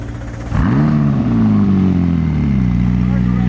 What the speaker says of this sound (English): Cold start here on that 600 LT, or actually the warm start.